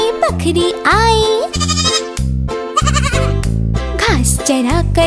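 A voice in a children's Hindi farm-animal song imitates a goat's bleat in short sung bursts over a steady, loud musical backing.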